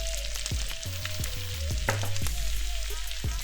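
Butter melts and sizzles in a pan while tantuni is being made at home, a close, steady crackling fry with occasional clinks of a utensil against the pan.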